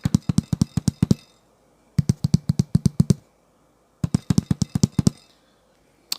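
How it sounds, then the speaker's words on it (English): Taps on a faulty Realistic Minimus 7 woofer cone give a papery, dull tone, heard as three quick bursts of about seven to eight close taps each, separated by short pauses, near and fairly clear. "and this one's kind of like a paper sound."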